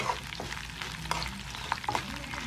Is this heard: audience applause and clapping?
no